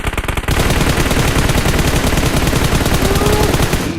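Sustained rapid automatic gunfire in PUBG Mobile aimed at a tank, loud, dense, and continuous, rattling without a break for several seconds after a brief lead-in.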